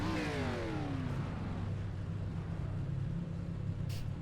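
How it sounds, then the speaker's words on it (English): ARCA stock car in iRacing at Kansas Speedway, engine note sweeping down in pitch as the car passes or lifts off, then settling into a low steady exhaust rumble, fairly quiet with no talk. "I'm a sucker for a good exhaust sound."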